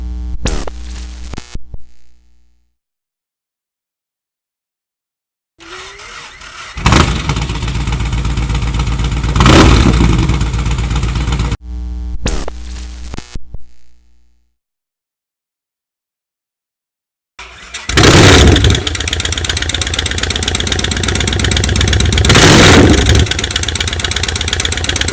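Motorcycle fitted first with RS Warrior Speedstar exhausts, then Samson RipSaws, heard in alternating bursts: loud close idling and throttle revs, each run cutting to silence before the next starts up.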